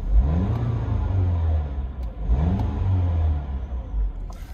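Low, rough idle of a BMW 116i engine with an oil pressure fault, running continuously up close with a rhythmic rumbling pulse and slight rise and fall in pitch.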